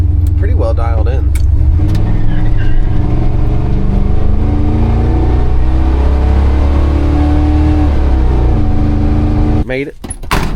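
A Jeep XJ engine with a freshly tuned carburetor idles steadily and close by, a constant low rumble with a brief clatter near the end; a voice is heard briefly at the start.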